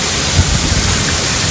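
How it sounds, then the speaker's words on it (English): Hail pelts a camping van in a storm, a dense steady roar of ice striking metal with a few louder knocks, close and continuous. "There's all the hail."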